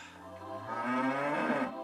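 A cow moos in one long, loud, drawn-out call that swells and holds steady, heard alone with no talk.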